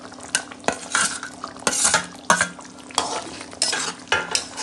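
Paneer pieces are stirred into potatoes cooking with poppy seed, with repeated loud scraping strokes of a spatula against the pan over a light sizzle, close up and with no voices.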